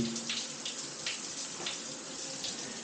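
Water runs in a steady, quiet hiss with soft splashing from a campsite shower spraying at a distance.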